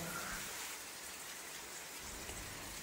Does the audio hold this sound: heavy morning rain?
yes